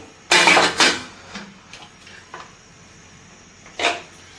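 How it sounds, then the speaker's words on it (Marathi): A steel container of rice and dal set inside a pressure cooker holding a glass of water: two sharp metallic clanks at the start, small knocks, then another clank near the end. "आपण आता तांदूळ आणि डाळीचा डब्बा कुकरमध्ये घालून घेऊयात"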